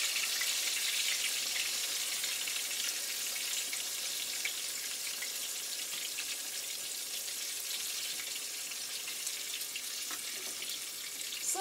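Pork chops browning and crisping in a pan, a dense, even hiss of frying fat that runs unbroken and fairly close, with no voices.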